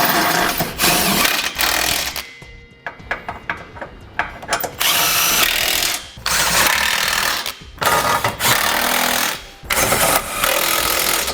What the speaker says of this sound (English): Now we'll just go through and snug down our hardware here.